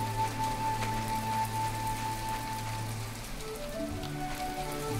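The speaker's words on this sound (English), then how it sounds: "it's raining. God dang it. Why does it always gotta rain?" Steady rain patters on surfaces in the video game My Time at Portia, a constant soft hiss under low ambient game tones, with no voices.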